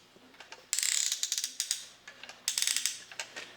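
The moving parts of a mechanical talking robot toy give rapid bursts of ratcheting clicks, close and crisp. Two longer buzzing runs alternate with scattered single ticks, and no one speaks.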